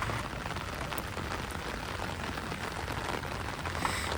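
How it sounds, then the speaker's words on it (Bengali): Heavy monsoon downpour beside the Ganges, a dense, steady roar of rain that stays loud and unbroken throughout, with no voices. "কি মুষলধারে বৃষ্টি হচ্ছে দেখতেই পাচ্ছেন আপনারা"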